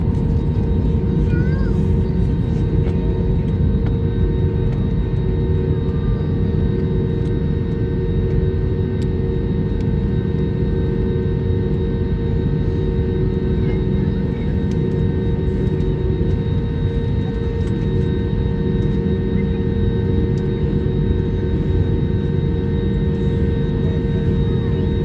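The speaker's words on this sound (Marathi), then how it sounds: "इथून आपण टेकऑफ घेणार आहे आता." Airplane cabin noise on a Pune to Jaipur flight before takeoff: a constant, even engine drone and rumble filling the cabin from start to end, with steady tonal whine layered over it.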